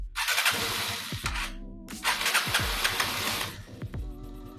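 A small engine on an Aprilia Scarabeo scooter is cranked and sputters to life twice, a brief pause between bursts of uneven, buzzing revving, then settles into a rough idle.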